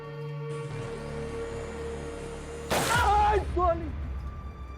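A sudden loud broadband gunshot in an episode of the Indian TV series CID cuts through a steady mechanical hum like a washing machine, followed by ringing, warbling tones that fade over a second or so.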